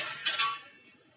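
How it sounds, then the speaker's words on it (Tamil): A plate is set down as a lid over a pot of boiling water, giving a couple of quick close metallic clinks over a faint bubbling hiss. "தண்ணி கொதிக்கட்டும், தட்டை போட்டு மூடி வச்சிடலாம்."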